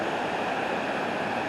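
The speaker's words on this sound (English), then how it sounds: "I just kind of like the waterfalls here." The outdoor waterfall at the Mirage on the Las Vegas Strip gives a steady, full rushing roar of falling water, constant and fairly close, with no voices.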